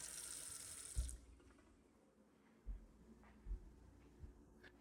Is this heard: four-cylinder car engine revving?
no